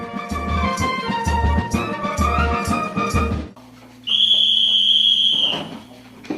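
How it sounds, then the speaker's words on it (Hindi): A long, steady whistle blast sounds at the 10 o'clock bedtime call, entering after a stretch of rhythmic music and holding loud and clear for well over a second before fading. "ठीक 10 बजे की सीटी ऐलान करती है सोने के वक्त का।"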